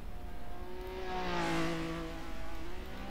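Car engine revving in the racing game Assetto Corsa VR, a smooth tonal engine note rising and falling in pitch as it accelerates, fairly faint and steady with no talk.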